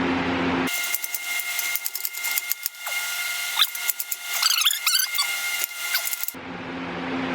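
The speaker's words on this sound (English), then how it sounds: "We're going to use just a socket set or a ratchet by hand to tighten this" A hand ratchet tightens exhaust bolts in short bursts of rapid clicking and metallic scraping, close up, with a constant hiss behind it; no one talks.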